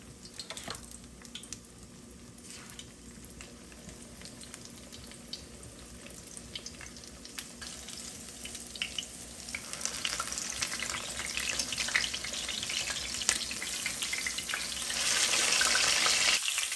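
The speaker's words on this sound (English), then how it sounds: "Let's get over to the stove and fry this schnitzel up." Breaded schnitzel frying on a stovetop: a soft crackling sizzle that gradually builds, growing louder and fuller toward the end, with light clatter along the way and no talking.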